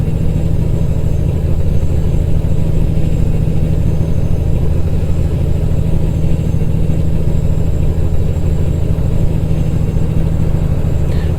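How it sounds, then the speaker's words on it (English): A low, steady truck engine rumble from American Truck Simulator, heard inside the cab of a Peterbilt 389, idling continuously with an even drone and no changes in pitch or loudness throughout. "I do kind of have to admit with this engine sound, it doesn't sound too bad inside the cab."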